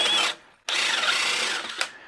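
A DeWalt Flexvolt cordless stud and joist drill whirs in two close bursts boring wood, briefly stopping in between, then winding down with a faint mechanical click.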